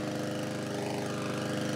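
A 3-in-1 electric lawn mower motor running steadily at close range, a loud even whirring drone with a fast regular pulse and no pauses.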